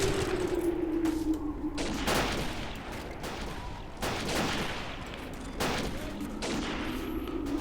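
Steady crackling rifle fire in the WWI video game Battle of Empires: 1914-1918, loud, dense shots overlapping in continuous volleys over the whole stretch, with brief swells.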